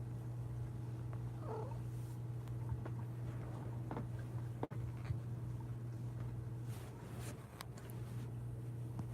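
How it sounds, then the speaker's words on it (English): A kitten purrs softly and continuously close by, a low steady rumble in a quiet room with faint rustles and small clicks around it, no talk. "Kitten."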